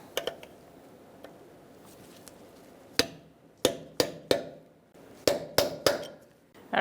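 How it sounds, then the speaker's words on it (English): A Kia Soul 2.0L CV axle nut being staked into its groove, sharp metallic hammer strikes ringing out close by, a few light taps first and then about eight hard blows in uneven bursts. "you're going to want to lock that nut on by digging it into that groove"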